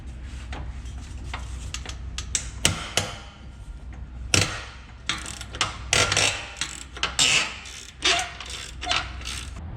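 A hand ratchet with a 15 mm socket and U-joint works a transmission bolt on a 2003 Mustang Cobra's T-56, giving irregular bursts of close clicking and metallic knocks between quieter pauses.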